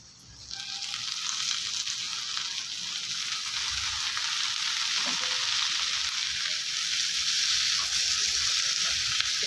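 Steady, loud sizzling of onions and brinjal frying in a hot pan, a continuous hiss that swells after the first second and holds throughout.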